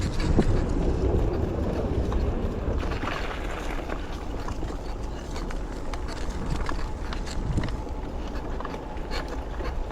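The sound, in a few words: passing train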